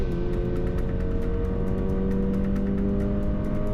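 Toyota GR 86 sports car engine pulling steadily under load from inside, a droning buzz that climbs gradually in pitch as revs rise, with a faint rhythmic ticking over it.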